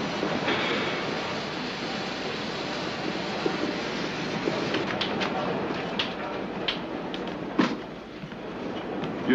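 A train runs steadily on its rails at night, a continuous rumble with some rhythmic clicks and a sharper clank near the end, while people talk over it.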